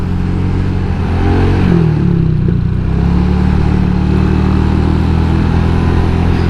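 An automatic scooter's engine drones loud and steady while riding, with a rough vibrating hum that rises slightly in pitch partway through and then holds, no voices over it.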